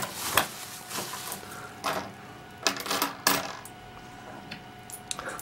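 Coins drop and clatter in several quick metallic bursts, close and fairly quiet, with short pauses between the spills.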